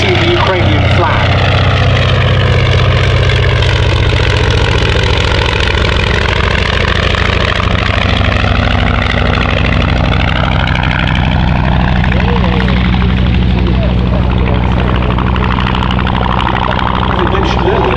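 A Fairey Swordfish biplane flies at the Shuttleworth air show, its piston engine giving a loud, steady droning roar that swells and slowly shifts in pitch as it passes, while a commentator talks continuously over it.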